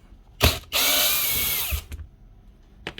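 A power tool whirs loudly for about a second, with short bursts before and after, while undoing socket head screws on a Makita HR2630 SDS+ rotary hammer drill under repair.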